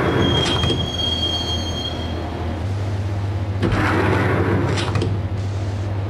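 Subway train at a station in the Max Payne video game, a loud steady rumble of carriages with squealing wheels and a deep hum, close and continuous.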